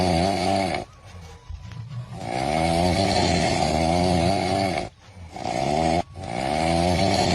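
A man snores loudly and close up, with long rasping, rattling breaths in a steady rhythm, broken by a few short pauses.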